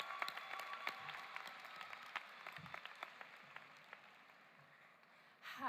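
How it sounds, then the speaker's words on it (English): Graduates at a ceremony clap for themselves, a faint, distant patter of applause with scattered sharper claps that fades before a brief louder sound at the end. "Give yourselves a round of applause"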